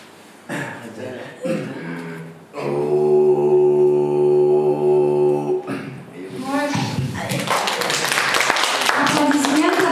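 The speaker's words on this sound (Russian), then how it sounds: "Аплодисменты." At an art gathering with an Evenki ethnic singer, sustained vocal tones and short voiced sounds give way to a burst of dense, steady audience applause that fills the last few seconds.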